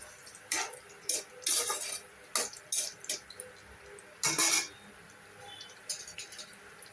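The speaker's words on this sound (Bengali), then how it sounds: "এইবারে আমি পনিরটা ভেজে নিয়েছি, তারপরে এবার আমি এই সবজিগুলো সব দিয়ে দেবো।" Vegetables are tipped into a pan of fried paneer, with a run of loud clattering and scraping bursts of utensils against the pan, uneven in rhythm and close by, with no talk.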